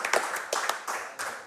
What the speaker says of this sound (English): I actually want to clap it out here for all of our crew